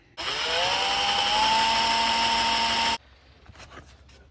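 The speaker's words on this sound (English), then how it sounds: "We're gonna drill a hole right here." A power drill bores a hole through a box being made into a display base for an X-Wing model: a loud, steady motor whine lasting under three seconds with rising pitch, then cutting off to quiet handling sounds.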